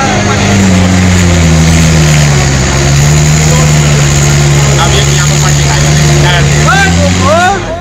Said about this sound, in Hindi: ट्रैक्टर का ड्राइवर ट्रैक्टर को नदी पार कराने की पूरी कोशिश कर रहा है, लेकिन ट्रैक्टर आगे नहीं बढ़ पा रहा।